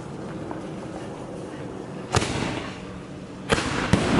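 Fireworks going off down a street for the 4th of July, a few sharp cracking bangs over a noisy outdoor background, with people talking nearby.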